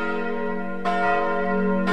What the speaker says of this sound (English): The first one we've got here is a church bells.